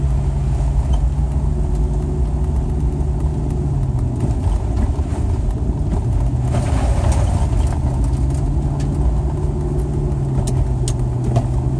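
A car driving along a road toward the race track at Oscoda, a steady loud engine drone with tire and road rumble from inside the cabin, the engine note dipping briefly partway through.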